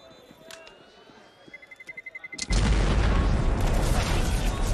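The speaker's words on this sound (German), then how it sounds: "Bombe geht hoch." A bomb detonates on the Vertigo map in a Counter-Strike match: a rising series of rapid beeps gives way to a loud, sustained broadband blast that dominates the rest of the moment.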